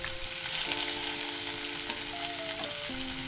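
Chopped onion fries in hot oil with cumin for veg pulav, a dense continuous sizzle close by with light stirring scrapes and a faint steady hum.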